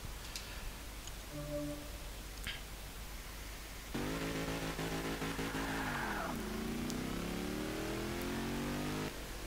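A supercharged 1939 Maserati 8CTF race car engine in Forza 5 idles quietly, then snaps into a loud, sustained rev that climbs, shifts and climbs again.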